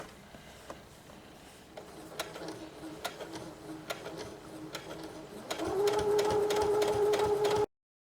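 A sewing machine stitches fabric for cloth pads, starting with a few quiet, sparse taps and then running in a louder steady whirring burst before stopping abruptly.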